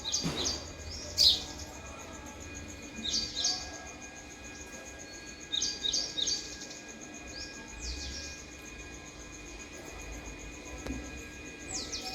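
House sparrows chirp in short, bright bursts of a few notes each, spaced every couple of seconds over a steady low background hum, with a soft insect-like buzz in between.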